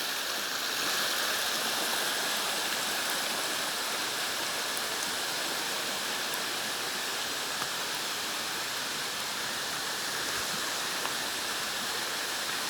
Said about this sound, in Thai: แล้วก็จะมีน้ำตกอยู่ข้างใน